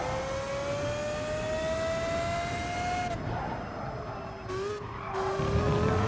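An Audi Vision Gran Turismo race car in the video game GT Sport runs at full throttle, its engine whine climbing steadily and then dropping at a shift, with brief tyre-scrub noise toward the end.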